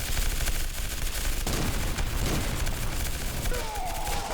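Continuous rapid gunfire while shooting zombies in the Roblox game RE:Infected, a loud, dense wash of automatic shots that runs without pause through the whole stretch.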